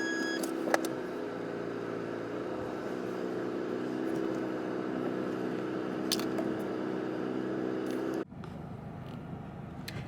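Car driving with a steady engine and road hum inside the cabin, low and continuous, fairly quiet, with a couple of faint clicks and an abrupt drop in level near the end; no talking.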